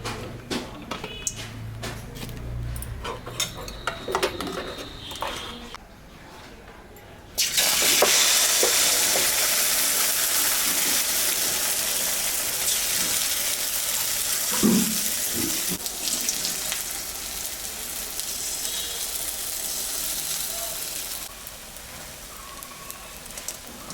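Egg roti frying in mustard oil in a pan, a loud steady broadband sizzle that switches on abruptly partway through and holds to the end, preceded by quieter clatter and handling sounds.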